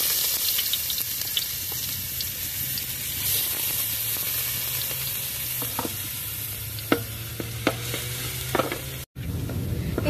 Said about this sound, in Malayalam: എണ്ണ ചൂടായി കഴിയുമ്പോൾ ഇഞ്ചിയും വെളുത്തുള്ളിയും ചതച്ചിട്ട് കൊടുക്കുകയാണ്.